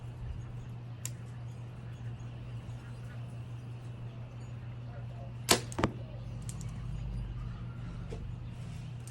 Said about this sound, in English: The arrow definitely hit the target